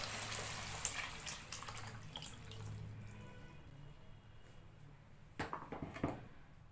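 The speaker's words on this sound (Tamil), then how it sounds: "இப்போ நம்ம கலந்து எடுத்து வச்சிருக்கிற இந்த புளி மிளகாய் பொடி கரைசலை சேர்த்துக்கலாம்." Tamarind and chili powder liquid is poured into a pot of fish kuzhambu, a soft, steady watery splash that is faint and nearby, with a few louder splashes near the end.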